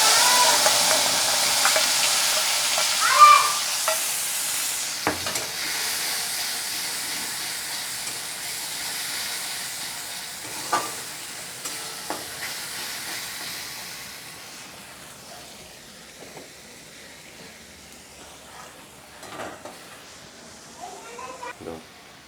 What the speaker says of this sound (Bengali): একটা তেজপাতা ফোড়ন দিলাম, আর একটা শুকনো লঙ্কা ফোড়ন দিলাম।